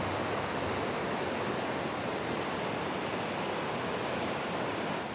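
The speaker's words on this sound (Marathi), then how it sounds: "आज या धबधब्याने रौद्र रूप धारण केले असले तरी देखील सौंदर्य तीळमात्र कमी झाले नव्हते." The Sahastrakund waterfall in Nanded, in heavy, fierce flow, gives a dense, unbroken roar of falling water that stays loud and even throughout, with no voices.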